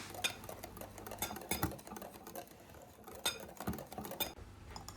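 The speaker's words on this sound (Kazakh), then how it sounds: "Барлығын жақсылап араластырып аламыз." A utensil beats pancake batter with oil in a bowl, making repeated clinks and soft wet scrapes in an uneven rhythm, close by and fairly quiet, with no talking.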